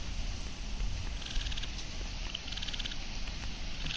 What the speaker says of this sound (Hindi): मेंढक बोल रहेगा इसके अंदर, सुनाई दे रही होगी आपको आवाज़।